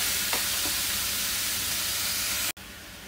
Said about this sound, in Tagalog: Papulahin natin ang spare rib.